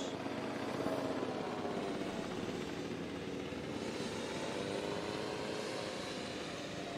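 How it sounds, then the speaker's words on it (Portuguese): A drone hovers in the video game Jurassic World Evolution 2, giving off a steady, fairly quiet whirring drone with no break. "Acionando um drone."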